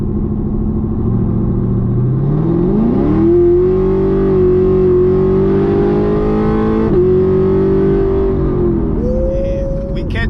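A Chevrolet Camaro 2SS in sport mode accelerates hard, its engine note climbing steadily in pitch across several gear pulls, loud and close from inside the car with a brief shift dip midway.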